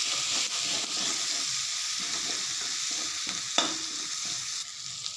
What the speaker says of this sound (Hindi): इसमें हम डालते हैं मसाला 2 चम्मच, हल्दी पाउडर 1/2 चम्मच। अब इसको जो है हम हल्का भूनेंगे।